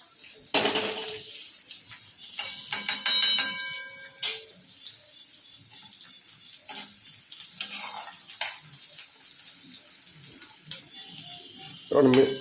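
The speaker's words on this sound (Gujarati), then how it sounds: "લીલી ડુંગળી, સૂકા મરચાં છે અને તેલમાં થોડા શેકાવા દેશું. વઘાર ઉપર આવવા દેશું. આવો અવાજ આવવો જોઈએ." Green onions and dried chillies sizzling in hot oil for a tempering, with crackling bursts, spoon scrapes and clinks against the pan, and intermittent voice over the cooking noise.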